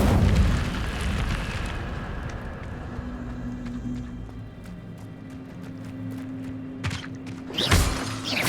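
Incendio fire spell cast in Hogwarts Legacy: a whooshing burst of flame over a low rumbling game soundscape, followed by another loud crackling burst near the end.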